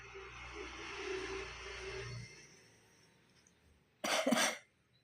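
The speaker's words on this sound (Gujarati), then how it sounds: "બહુ ઉધરસ આવે ને" One person with a bad cough lets out a single sharp, close cough burst near the end, after a stretch of quiet background hum and faint room noise.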